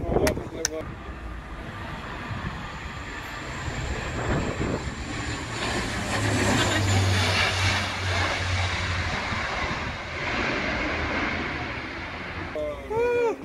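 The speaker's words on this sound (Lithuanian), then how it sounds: "Tai dabar žiūrėsime, kaip lėktuvai tupia." A jet aircraft roars past while landing at Madeira, swelling from a distant rumble to a loud whoosh before easing off, with people talking faintly nearby.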